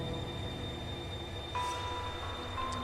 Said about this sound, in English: Time for me to board this train.